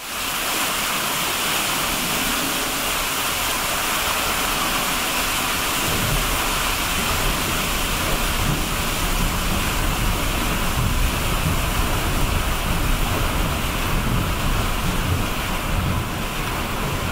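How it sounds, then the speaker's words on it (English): Water wheel at Lyme Regis Town Mill, a Dorset watermill, recently refurbished: loud, continuous rushing and splashing water with a heavy churning rumble throughout and no talk. "We're very proud to have a wonderful water wheel which we will be reopening on Sunday."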